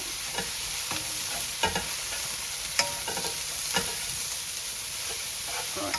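Bean sprouts and garlic sizzle steadily in a hot pan, with scattered clinks and scrapes of stirring and tossing over a constant frying hiss, close up and without talk.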